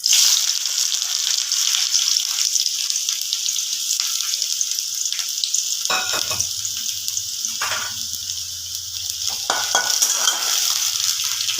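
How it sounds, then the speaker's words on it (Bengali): Chopped onion frying in hot oil with cinnamon and cracked cardamom, a steady crackling sizzle throughout, broken by several scraping stirs of a spoon against the pan. "পেঁয়াজটাকে একটু ভাজা ভাজা করে নেব"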